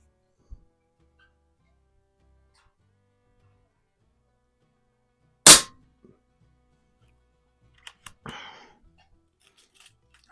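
An Air Venturi Alpha compact PCP carbine air rifle with its stock moderator fires a single short, muffled crack in an otherwise quiet room, followed by a few soft mechanical clicks.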